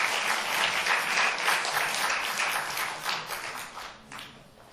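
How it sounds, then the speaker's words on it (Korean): Church congregation standing to applaud a student worship team during an intergenerational Sunday service, a dense, steady wash of clapping from many hands that fades slightly toward the end. "우리 다 같이 일어나셔서 오늘 찬양단 한 우리 친구들 위해서 박수 한번 할까요?"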